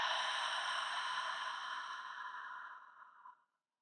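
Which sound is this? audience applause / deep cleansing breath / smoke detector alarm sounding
deep cleansing breath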